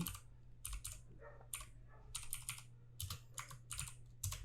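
Keys clacking on a computer keyboard while entering data into a spreadsheet, in quick bursts of close taps separated by brief pauses over a steady low hum.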